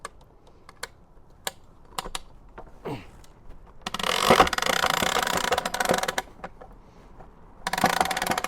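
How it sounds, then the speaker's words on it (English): A hand winch ratchet clicks as a tilting antenna mast is lowered, its loose handle knocking around; scattered single clicks and knocks give way to two longer, louder bursts of rapid rattling close by. "I don't have the handle of the winch fully in place yet, so it is going to knock around a little bit"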